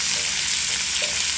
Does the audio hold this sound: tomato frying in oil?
yes